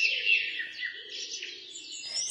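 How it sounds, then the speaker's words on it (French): Small birds chirp and tweet in quick, overlapping calls on a morning at a campsite, fairly soft and continuous, heard alone without voices. "C'est l'heure où les oiseaux secouent leurs plumes."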